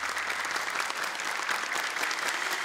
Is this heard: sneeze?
no